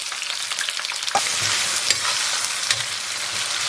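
Scallion, ginger and onion drop into hot oil in a wok and fry with a loud, bright, continuous crackle and hiss, with a few sharp spikes as the pieces hit the oil and are stirred.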